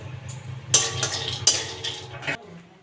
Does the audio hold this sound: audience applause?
no